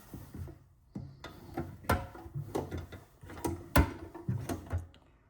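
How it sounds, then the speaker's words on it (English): Drawers of a US General mini toolbox sliding open and shut, a run of close, clattering metal knocks and slides with several sharp bangs, spread over a few seconds with no talk. "drawers on the green one come out a little farther"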